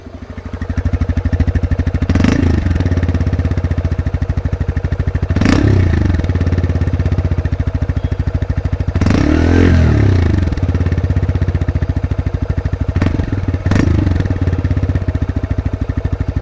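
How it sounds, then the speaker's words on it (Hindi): A TVS Raider 125 motorcycle runs steadily close by, its grunty exhaust note holding a constant drone with four brief revving blips spaced through the recording, with no talking. "जो एग्जॉस्ट नोट है वो जबरदस्त है। चलिए आपको सुनाता हूँ"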